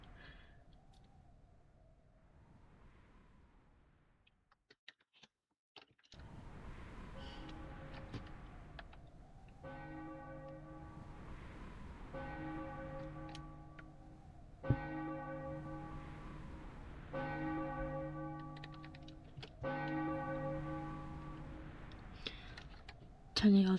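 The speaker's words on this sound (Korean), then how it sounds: "저녁 6시를 알리는 종소리가 들린다." Bell tolls marking six o'clock in the evening in a horror video game ring out in a series of sustained, evenly spaced strokes over faint background, with a few clicks and a quiet low tone beforehand.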